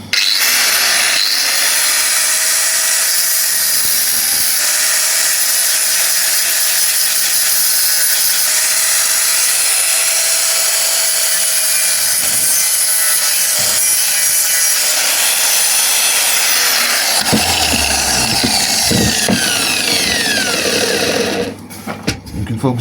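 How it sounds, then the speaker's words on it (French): An angle grinder cuts through metal rivets in a loud, continuous, high-pitched whine that runs for about twenty seconds, with pitch sweeps as the disc loads and frees, then cuts off abruptly near the end. "moi je l'ai fait à la disqueuse, ça va plus vite."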